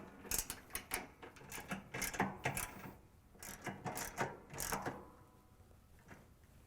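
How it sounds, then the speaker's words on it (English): Socket wrench ratcheting while tightening the bolts on an Amana/Whirlpool appliance motor: repeated bursts of quick clicks in short irregular runs, fairly close and moderately loud, with no talking. "Tighten all bolts with a socket wrench."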